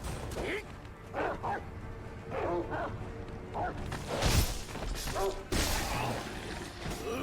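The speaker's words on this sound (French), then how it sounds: "Saloperie de merde de chien." A dog barks in Sekiro in short, sharp yelps mixed with clashing game effects and thuds, while someone talks intermittently over the fight.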